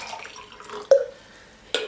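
A small dash of drinking water lands in two brief, soft drips about a second apart, quiet and close, with faint background hiss.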